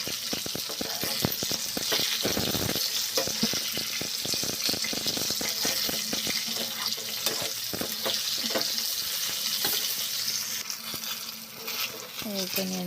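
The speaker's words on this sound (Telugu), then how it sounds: "కొద్దిగా సాల్ట్ వేసుకుని ఫ్రై చేసుకోవాలి." Brinjals frying in oil with a little salt, a steady close sizzle with frequent sharp scraping and clattering stirs running throughout.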